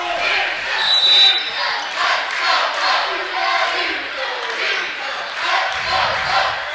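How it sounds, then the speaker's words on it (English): Spectators at a men's volleyball postseason game against McKendree make a steady, loud wash of cheering and shouting that carries through the whole stretch, with voices mixed in. "Crowd into it here."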